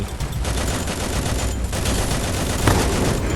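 Loud, dense video game gunfire from a hard-hitting gun, a continuous rapid burst of shots filling the whole stretch without pause.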